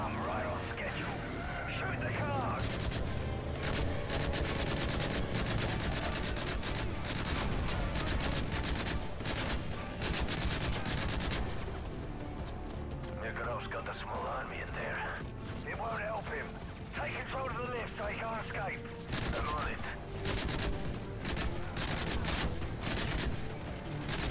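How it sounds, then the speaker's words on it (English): Gunfire in the video game Call of Duty: Modern Warfare 3, with dense rattling bursts and shots running through most of the stretch, loud and continuous over game effects and voices. "Who's shooting at me?"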